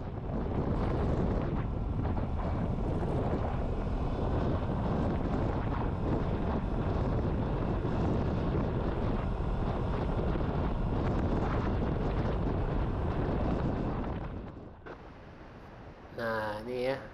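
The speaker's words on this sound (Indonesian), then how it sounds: "Ini Vespa belum pernah lewat jalan tanah, jadi kita ajak jalan-jalan tanah dulu sebentar" Vespa scooter riding on a dirt road, heard as a steady, loud roar of wind buffeting the microphone with engine rumble beneath, easing off near the end.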